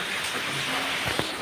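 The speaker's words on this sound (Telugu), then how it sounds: "పడుతుంది వర్షం అయితే." Heavy rain falling as a steady, even hiss that holds without break, fairly faint and with no talking.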